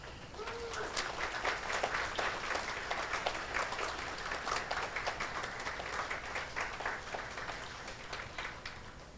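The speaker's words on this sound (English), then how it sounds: "Please keep that applause going for our next liaison" Sustained audience applause at an annual dinner, a dense steady wash of many hands clapping throughout, fairly distant and even.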